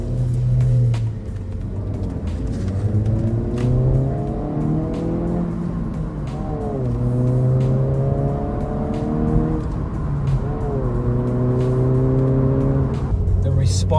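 Honda Civic Si with a high-volume air intake accelerating repeatedly, engine pitch climbing through several gears with short breaks between pulls, heard close from inside the car.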